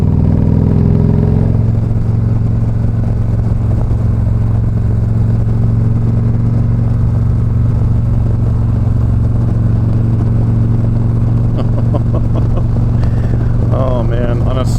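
A Victory Magnum X1 motorcycle rides on a smooth street through corners, its engine a loud, steady drone heard up close from the bike, with some brief higher noises near the end.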